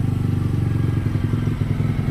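A motorcycle engine held at elevated revs of around 3000 RPM while standing, producing a loud, close, steady throbbing rumble with a fast regular pulse and no change in pitch.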